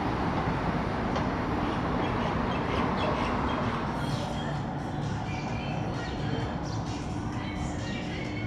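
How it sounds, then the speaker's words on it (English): Steady rumble and rattle of a metro train ride, a continuous loud low drone with rail clatter throughout and faint voices or squeaks now and then. "that was a really quick and easy journey on the metro from the museum"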